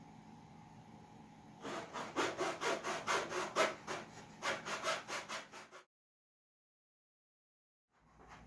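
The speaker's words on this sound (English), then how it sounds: "I'm going to get these roughed in with a saw and sanded to shape." Hand saw roughing in a wooden nose block for an outboard tunnel hull, a run of about a dozen rhythmic rasping strokes, close and clear, ending abruptly into silence.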